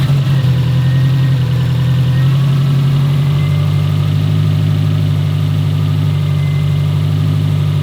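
A 2005 Subaru STI engine runs and idles nearby after a repair, a loud, steady low rumble with a slight dip in pitch partway through and no voices.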